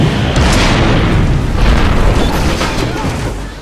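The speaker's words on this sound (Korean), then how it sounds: "결국 힌덴부르크호는 폭발하게 되죠" The Hindenburg airship explodes in a TV drama, a loud sustained roaring blast with crackling rumble that stays dense and heavy throughout, with no talk over it.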